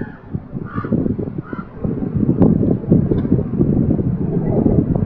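Wind buffets the microphone with a constant low rumble while a person speaks, and a faint honk sounds in the distance.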